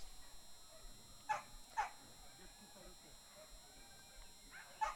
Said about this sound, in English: Dogs are being placed.